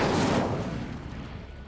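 Incendio fire spell in Hogwarts Legacy bursts with a deep, whooshing boom that swells briefly then decays into a fading rumble, loud and alone.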